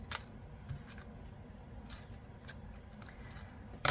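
Scissors snip open sequin packets in a series of light, fairly faint cuts with soft crinkling of packaging, heard close up in a quiet room.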